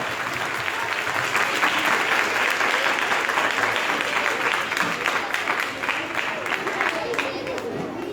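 Sustained applause from a crowd, dense clapping throughout with steady loudness, no pauses.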